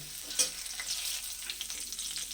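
Whole cumin, a cardamom pod, two cloves and a bay leaf sizzle in hot oil in a pan, a continuous close hiss with a brief stronger crackle near the start and small pops and stirring scrapes throughout.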